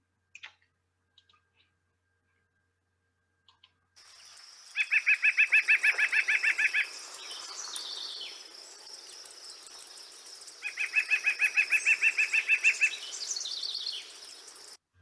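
Two bursts of a rapid, rhythmic series of nasal notes, like a laughing giggle, from a nearby nuthatch, with softer chatter in between and near-silence at the start.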